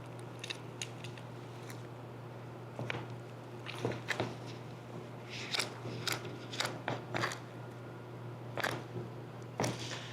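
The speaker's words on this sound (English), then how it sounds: "I'm gonna screw in this gun on the canister" A spray gun is screwed onto a DIY bedliner canister: scattered short clicks, scrapes and crunchy thread-turning sounds at close range over a steady background hum, with no talking.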